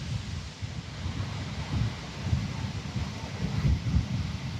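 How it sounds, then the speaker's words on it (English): Gusty wind buffets the microphone in Interlaken, Switzerland, a steady low roar that swells and eases in waves with no one speaking. "It's quite windy"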